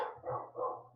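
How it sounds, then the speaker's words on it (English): A dog barks in the background, three low muffled woofs spaced across a second, somewhat distant and alone. "Ignore the dog barking if you guys can hear"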